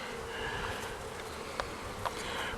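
Honeybees buzzing inside an active hive where the bees are drying honey in a newly added super, a continuous soft hum with a couple of brief closer buzzes or bumps partway through.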